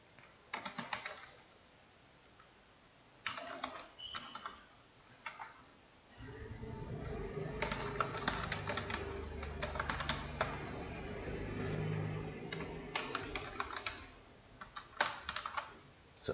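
Typing on a computer keyboard while entering mail merge entries in Word 2019, heard as quiet clustered key clicks in bursts with pauses, a denser run of steady keystrokes in the middle, close to the microphone and with no speech.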